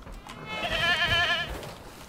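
A goat bleats once, a loud wavering cry lasting about a second, as an Atrociraptor hunts it in a dinosaur video game, with faint background ambience and no talk.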